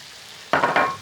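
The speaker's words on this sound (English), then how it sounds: "We have a nice sizzle on." Oil for a lamb rogan josh suddenly bursts into a loud, close sizzle in a pan after a quiet start, crackling on steadily to the end.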